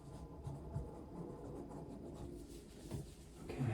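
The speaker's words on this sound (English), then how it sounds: "Let me write these down real quick." Pen writing notes during a cranial nerve exam roleplay, a soft continuous scratching and rubbing across the page, close and quiet throughout with no talking.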